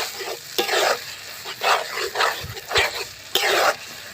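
Two eggs fry in a pan with salt and turmeric, giving bursts of sizzling as they are stirred in uneven pulses, with a dog barking briefly and faintly in the background.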